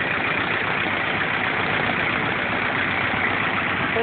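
A 1931 Ford Model A engine, original barn find running for the first time in 23 years, with a possible exhaust gasket leak, idles in a steady, continuous low rumble close by with no talk.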